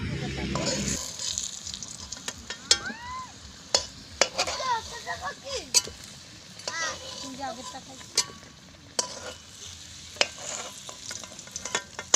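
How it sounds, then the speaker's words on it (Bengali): Potatoes fry in oil for a village-style duck curry, a low sizzle with sharp utensil clicks and scrapes, while children's voices and chirpy calls sound in the background. "আমাদের আলু ভাজা প্রায় হয়ে গেছে"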